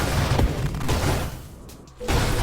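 Nova Drift game combat: dense, booming blasts and rapid shooting pile up loudly, ease off briefly into a quieter stretch, then return with another heavy burst of explosions.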